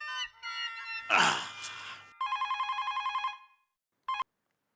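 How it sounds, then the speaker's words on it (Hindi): A telephone rings in repeated electronic bursts, loud and close, with a short final ring after a pause; a brief noisy clatter precedes the rings. "भिड़े का ही फोन होगा, उठाना मत।"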